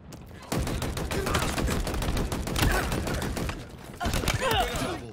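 Full-auto Commando rifle fire in Halo Infinite, loud dense rapid bursts close up, with a brief pause near the end before another burst, a voice talking over parts of it.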